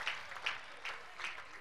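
Congregation claps for Jesus at a church miracle service, a few loose, uneven bursts of hand claps spread across the moment, moderately faint and reverberant in a large hall.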